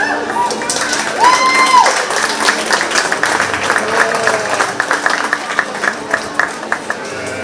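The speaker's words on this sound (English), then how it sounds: "let's give them 1 minute more round of applause for our goat show" Crowd applause at a county fair 4-H/FFA goat show, a steady round of clapping and cheering from spectators that holds across the whole stretch, loud and close, with a few sharper claps near the end.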